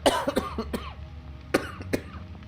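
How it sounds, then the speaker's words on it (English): Several sharp coughs close to the mic, a cluster of three or four at the start and two more a second later, with quiet room noise between. "My cough is not worse today. It might sound worse."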